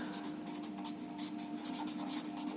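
Chalk or marker scratches across a classroom board in short repeated strokes, a steady light scraping rhythm with no voice over it.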